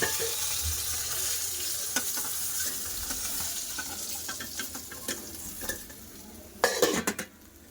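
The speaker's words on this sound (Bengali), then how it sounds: "উলট পাল্ট করে সব মাছগুলো ভেজে নেবো" Silver carp fish fry in hot oil with a continuous sizzle, broken by scraping and stirring and a few sharp clinks of a utensil against the pan near the end.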